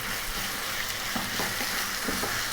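Thin slices of lamb's liver sizzling and being stirred in a hot pan for an Indian liver potato fry, steady close frying hiss with light scraping, no voices.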